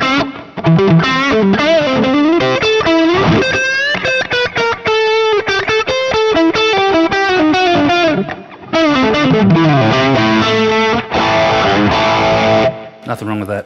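Electric guitar with low-output pickups driven through a Klon-clone overdrive pedal, playing a continuous run of chords and single-note lines with crunchy, mildly distorted tone, loud and close, ending on a brief pause and a final strum.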